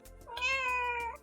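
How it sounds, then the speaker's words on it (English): A single cat meows once, a clear drawn-out cry heard close and alone in a quiet room. "Can we get like a meow in here?"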